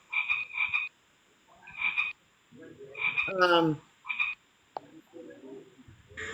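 A frog croaks in several short, repeated bursts with gaps between them, fairly loud and close, while a voice briefly speaks in between.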